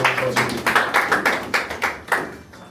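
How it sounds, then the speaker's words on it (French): Applause at a baptism for a newly baptized child, a small group clapping in a loose rhythmic beat, close and fairly loud, fading slightly toward the end. "On applaudit pour le nouveau baptisé."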